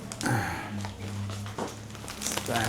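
Plastic grocery bags crinkle and rustle as they are handled near the mic, with a voice talking over the crumpling.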